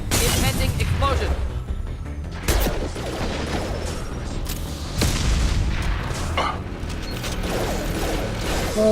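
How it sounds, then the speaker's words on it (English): Mass Effect 2 gameplay with loud booming explosions and clattering mechanical debris in heavy bursts across the clip, mixed with dense game sound effects. "Impending explosion."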